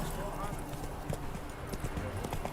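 Roach the horse trotting in The Witcher 3, with steady clip-clop hoofbeats and game ambience while a person talks over it.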